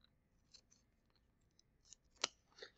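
Scissors snip around a vinyl logo cut for a custom mask, making a few soft, close cuts in a quiet room and ending with a couple of crisper, louder snips.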